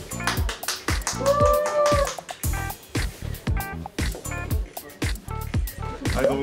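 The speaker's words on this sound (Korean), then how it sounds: "박수 엄청 크다" Bursts of clapping from people in a room at an advertising shoot, several short rounds broken by talking and greetings.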